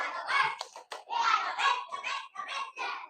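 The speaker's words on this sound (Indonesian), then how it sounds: "Tepuk semangat." A primary school class answers the teacher's call with a rhythmic clapping chant, sharp hand claps falling in a quick pattern mixed with children's voices chanting along.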